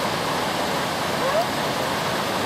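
A small river flows through a forest near Franz Josef, giving a steady, even rush of water that fills the whole stretch without pause.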